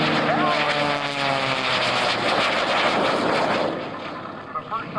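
Aerobatic propeller plane fitted with a small auxiliary jet engine performing at the 2004 AirPower Over Hampton Roads air show, a loud roaring engine drone with shifting pitch that eases off near the end, an announcer talking over it.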